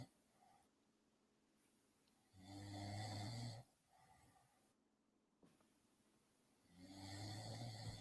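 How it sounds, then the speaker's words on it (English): A man sleeping and snoring loudly, with two long rasping snores spaced several seconds apart and quieter breathing between them, heard close up without talk. "You hear him snoring?"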